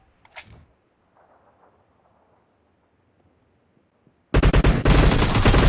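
PUBG Mobile deathmatch gunfire: a faint lone shot early, a few seconds of near silence, then a sudden loud sustained burst of rapid automatic fire to the end.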